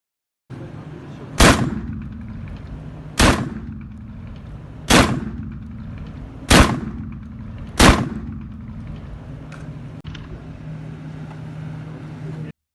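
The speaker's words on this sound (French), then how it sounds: "vous m'avez vu tirer avec un fusil de chasse semi-automatique calibre 12 qui était chargé en chevrotine" Five loud, sharp blasts from a semi-automatic 12 gauge hunting shotgun loaded with buckshot, spaced a second or two apart at an outdoor shooting range, with a low idling hum underneath.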